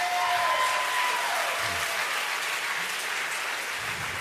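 A church congregation claps steadily together, a dense, loud wash of applause that holds throughout with a faint voice or tone briefly audible near the start.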